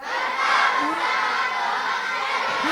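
Young children at the front of a Ramadan Safari gathering at an Islamic boarding school shout and cheer loudly together, a sustained crowd roar with a few rising voices cutting through.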